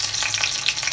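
Green chilies hit hot oil in a kadhai with a brief, loud crackling sizzle that spits and pops continuously and closely for a second, with no voices.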